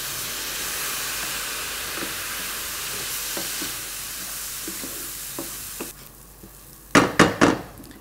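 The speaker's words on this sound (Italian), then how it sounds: "Una volta che il riso è tostato, si va a sfumare con poco" Steady sizzling of toasted rice in a hot pan with occasional stirring scrapes, then a few louder, sharper hissing bursts near the end as cognac is added.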